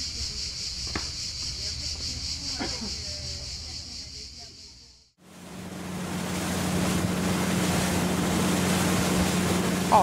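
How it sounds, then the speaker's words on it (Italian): A motorboat pulls out of the port of La Spezia, its engine a steady low hum over rushing water and wind after a brief break, continuous and fairly close. "partiamo dal porto di La Spezia con il loro motoscafo verso il porto di Lerici"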